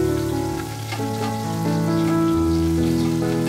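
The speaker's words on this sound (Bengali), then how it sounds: "একটা ছোট স্লাইস করা পেঁয়াজ দিয়ে দেব। একটু লাল লাল করে ভেজে নেব।" Sliced onion frying in hot oil for a fish curry, a steady dense sizzle throughout with no talking.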